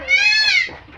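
Goat bleats once, a loud, close, wavering cry on a farm where goats are raised, with a faint voice underneath and the call trailing off at the end.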